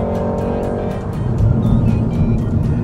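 A loud, droning engine sound from a 2016 VW Golf R, fake engine noise played through the car's speakers, hums steadily with a low, synthetic-sounding rumble and rhythmic ticking, close and continuous.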